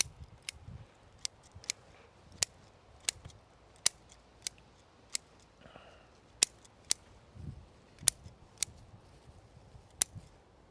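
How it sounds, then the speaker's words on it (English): Crisp sharp scissor snips trimming a bonsai, about a dozen cuts at an uneven but steady pace, close and fairly quiet against near silence. "Even with scissors like this, I have to be careful about my fingers"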